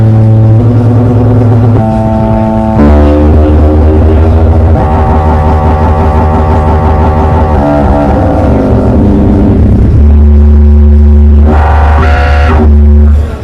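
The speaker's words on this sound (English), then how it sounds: "For this one, for instance, is the FM mode." An Arturia MicroFreak synthesizer in its FM oscillator mode plays loud, sustained metallic tones that shift pitch through a series of held notes, with a brighter burst near the end.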